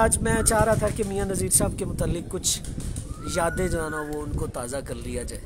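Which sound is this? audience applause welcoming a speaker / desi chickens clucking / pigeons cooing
pigeons cooing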